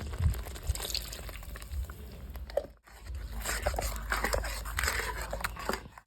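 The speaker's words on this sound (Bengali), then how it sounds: "বাটিটা ধুয়ে আমি জলটা দিয়ে দেবো" Water poured from a rinsed bowl into a paste of poppy seed, black and white mustard ground with milk, a steady liquid splashing and gurgling for several seconds, close by, with a brief dip partway through.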